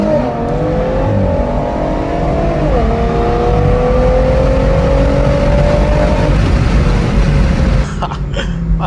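At an outdoor car meet, a car engine is revved hard and held at a loud, high pitch, the tone climbing then sagging slightly before cutting off abruptly near the end, followed by brief bursts of nearby noise.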